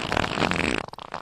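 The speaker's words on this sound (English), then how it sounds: "Bro, that fart sounded wet." A wet, sputtering fart sound plays loud and close for about a second, then trails off into a few softer, bubbly pops.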